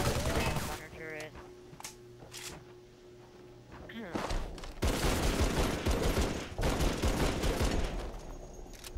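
Gunner turret machine gun fire in Halo 3, sharp bursts and rapid rattling volleys that grow dense and sustained in the second half, mixed with game effects and a voice talking between shots.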